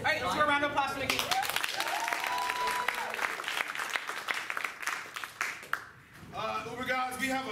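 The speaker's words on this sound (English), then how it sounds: "let's give a round of applause for Nikki." Audience applause at a Halloween-party comedy show, a dense, steady wash of clapping that runs almost the whole time, dips briefly near the end, and carries some cheering and voices mixed in.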